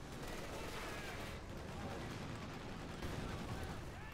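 Half-track gunfire in Company of Heroes 2, a Wehrmacht versus US Forces match, with a steady barrage of shots in a dense battle mix over the full stretch, while a commentator talks over it.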